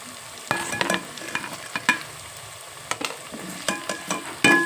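Green chillies sizzle in onion paste in a pan, with a constant fry broken by repeated scraping strokes and clatters from stirring, close and fairly loud.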